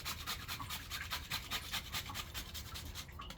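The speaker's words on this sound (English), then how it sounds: "Now we're gonna add that spice, which is that nutmeg. Just gonna get your grater." Whole nutmeg rubbed against a hand grater for carrot porridge: a quiet, rhythmic scraping rasp in quick repeated strokes, close up, with no talk.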